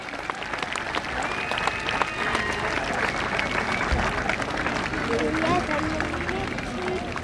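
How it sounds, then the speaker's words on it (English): A crowd at a Welsh ponies and cobs festival cheers and claps for a South Wales mounted police horse. Steady applause and scattered shouts continue for several seconds, with voices and babble mixed in. "Give him a nice cheer, that's it."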